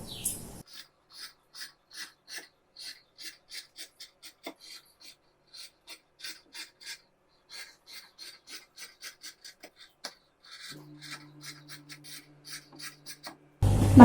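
Scissors snip steadily through dress fabric for a girls' summer dress, producing a long run of crisp, evenly spaced cuts close by with short pauses between strokes, and a low hum rising only at the very end.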